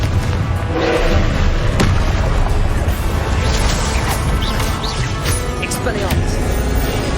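Confringo blast spell exploding in Hogwarts Legacy, a loud, dense roaring burst that fills the whole stretch with crashing, thudding impacts and constant game noise.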